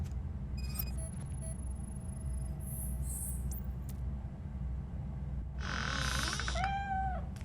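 A cat meows in the video game RoboCop: Rogue City, with a short run of bright, wavering cries near the end over steady low game ambience and scattered electronic tones earlier.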